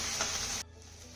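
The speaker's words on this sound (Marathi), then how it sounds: "ही मिरची देखील आपल्याला चांगली परतून घ्यायची आहे." Crushed green chilies and peanuts sizzle steadily in hot oil for a tempering, a bright loud frying hiss that drops abruptly to a quieter sizzle partway through.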